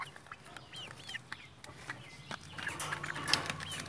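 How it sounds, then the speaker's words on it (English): Several chickens cluck and chatter nearby while feeding, with short, irregular calls scattered over a low outdoor background that grows slightly busier toward the end. "Here the other chickens are having a feast."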